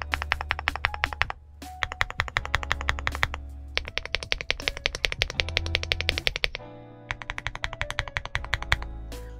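Typing test on an Aula F75 Pro mechanical keyboard with hi-fi and IXPE foam layers, giving rapid, crisp keystrokes in bursts with brief pauses and deeper spacebar thocks between them, close and clear with no talking.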